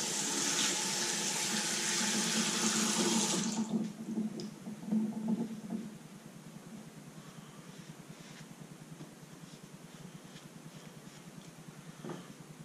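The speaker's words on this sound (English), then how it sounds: "let's wash off the face and see if I have any pickups" A tap runs loudly into a sink for about three and a half seconds, then stops, leaving quieter splashing and dripping as a face is rinsed after a razor shave.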